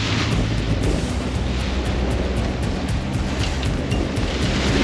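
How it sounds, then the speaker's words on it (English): Wind gusting to around 25 knots sweeps over a sailboat at sea in the Exumas Land and Sea Park, a steady, loud rushing roar mixed with surf and water noise, with no voices. "Depowered the sails because it's gusting up to 25 knots again"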